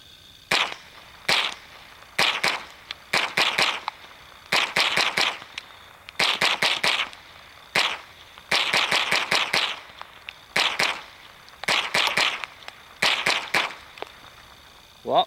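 Bursts of semi-automatic shots from a Remington 597 .22 rifle, a few sharp cracks fired in quick strings with short pauses between, loud and outdoors, with no talking.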